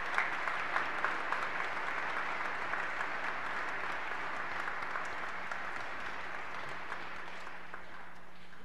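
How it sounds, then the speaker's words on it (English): Church congregation applauding at a Catholic Mass, sustained clapping from many hands that holds steady and gradually thins toward the end, with no talk over it. "How about a round of applause for our young people?"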